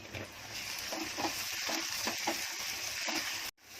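Sliced onions with a pinch of salt fry in a pan, giving a steady, close sizzle with soft stirring scrapes throughout, then a brief cut near the end.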